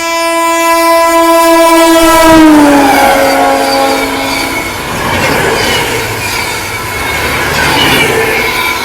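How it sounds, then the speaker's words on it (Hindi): Howrah–New Delhi Rajdhani Express sounds a long, loud horn blast as it approaches and rushes past close by, the tone dropping, followed by a roaring rumble of wheels and carriages with squealing. "सामने से आ रही है हावड़ा से चल के नई दिल्ली को जाने वाली हावड़ा नई दिल्ली राजधानी एक्सप्रेस"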